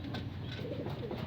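Pigeons coo softly at feeding time, a brief, faint, low cooing murmur over quiet background noise.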